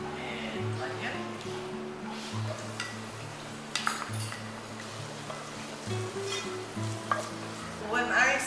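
Garlic and onion sauté in cooking oil in a pan for winged beans in coconut milk, a steady sizzle with stirring and occasional clinks of utensil on pan, while a voice speaks intermittently over a low hum.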